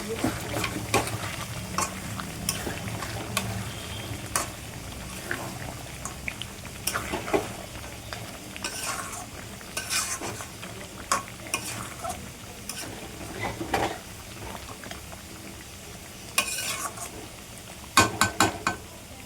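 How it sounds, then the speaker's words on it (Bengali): Meat cooking in a pot, a low bubbling sizzle under repeated clattering scrapes and knocks of a spoon stirring, uneven and fairly close, with brief faint background sounds and no clear talk. "এখানে আমি মাংস বসিয়েছি"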